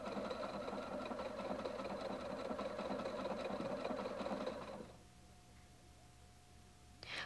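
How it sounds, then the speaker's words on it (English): A Husqvarna Viking Designer 1 sewing machine with a wing needle stitches an entre-deux stitch on cotton or linen, a fast steady whirring run that stops abruptly near five seconds, leaving quiet hum and a faint tone. "Insert the wing needle and stitch on a cotton or linen fabric"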